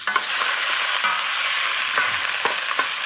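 Lobster carcasses sizzling in a hot pan, a loud steady hiss of frying with a few sharp pops and scrapes of stirring, close up and with no voices.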